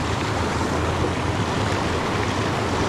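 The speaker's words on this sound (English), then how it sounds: "Right up in this white water" Steady broadband roar of rushing white water on a trout creek, loud and close, with no voices over it.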